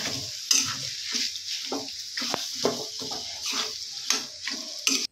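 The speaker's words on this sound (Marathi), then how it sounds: "बटाटा यामध्ये व्यवस्थित आता मिक्स करून घेऊयात।" Mashed potato being stirred into a vegetable mixture frying in a pan: a steady sizzle runs beneath repeated scraping strokes of a spoon, close and moderately loud, with no talking.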